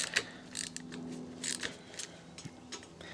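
A tight, Loctite-secured Torx T27 screw is loosened on the front fender of a Harley-Davidson Low Rider ST, giving a close, quiet series of irregular clicks and metallic ratcheting ticks.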